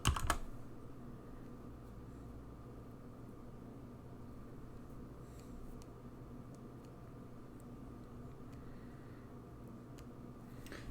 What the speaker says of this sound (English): I am just typing, sorry.